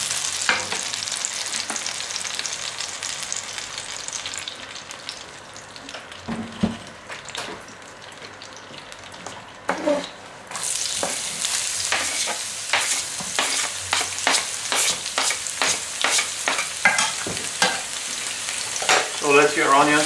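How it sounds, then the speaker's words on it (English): Onions frying in olive oil over medium-high heat, a steady sizzle punctuated by frequent scraping strokes of a spatula that grow busier and louder midway, no talk. "I'm gonna add the onions and let them fry"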